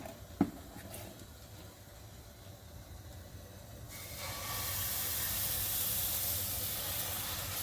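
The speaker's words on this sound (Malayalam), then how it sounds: "ഇനി നമുക്ക് ദോശ ഒഴിക്കാം" After a quiet start with a small clink, a loud sizzling hiss erupts and keeps going steadily as dosa batter hits a hot pan.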